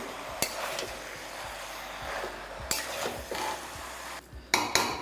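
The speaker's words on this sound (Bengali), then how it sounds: "তারপর আর একবার ভালো করে মিশিয়ে নিচ্ছি" Curry being stirred in a pan, with soft scraping and shuffling broken by a few sharp utensil knocks against the pan, fairly quiet and close, with no voices.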